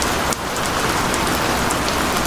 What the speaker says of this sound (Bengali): তখনও টিপ টিপ করে বৃষ্টি হচ্ছে।